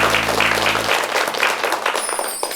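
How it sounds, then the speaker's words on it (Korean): Studio audience applause ahead of a televised Korean lecture on character, steady clapping at moderate level filling the clip, with a low hum dropping out early on. "박수로 청해 듣겠습니다"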